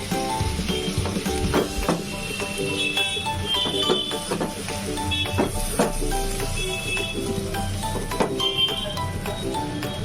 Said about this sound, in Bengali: নিয়ে এটাকে কষিয়ে নেব একটু এই জলটার সঙ্গে, জলটা শুকনো পর্যন্ত